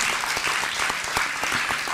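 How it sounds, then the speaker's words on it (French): Audience applause at an evening lecture event, dense steady clapping from a crowd filling the whole stretch at even loudness. "Applaudir très fort Aldo Naouri"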